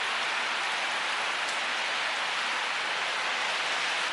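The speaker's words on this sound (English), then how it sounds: "It's raining pretty hard right now." Heavy rain pours outside a hotel, a dense, steady hiss of downpour filling the air without pause or voices.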